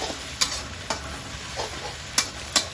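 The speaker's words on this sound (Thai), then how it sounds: "แล้วเราก็ผัดต่อนะคะ" Glass noodles with minced pork, egg and corn are stir-fried in a pan, giving a steady sizzle broken by several sharp scrapes of a spatula, close and loud with no talk.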